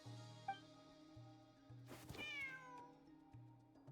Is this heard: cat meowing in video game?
yes